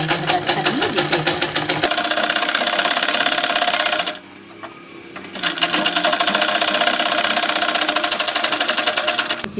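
A sewing machine stitches fabric piping onto red cloth in rapid, even bursts, pausing briefly in the middle before the loud, close rhythmic clatter resumes.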